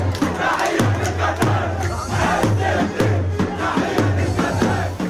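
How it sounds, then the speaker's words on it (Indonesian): A large crowd of Palestinian refugees cheers and shouts together in a loud, continuous roar with rhythmic chanted bursts, celebrating an Israel-Hamas peace plan announcement. "Pengungsi Palestina sorak-sorai merayakan pengumuman tahapan pertama rencana perdamaian Israel-Hamas"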